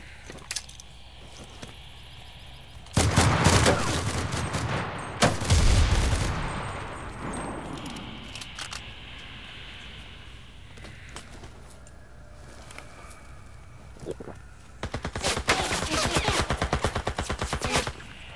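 Rapid automatic gunfire in the battle royale game Cuisine Royale, two loud bursts early, a quieter stretch with faint distant shots, then another sustained volley near the end; no speech.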